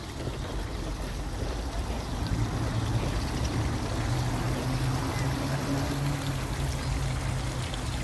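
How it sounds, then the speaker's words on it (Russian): Steady splashing and rushing of water falling in a fountain in a city square in Irkutsk, a continuous wash of noise without pause, fairly close and even in level throughout. "фонтан."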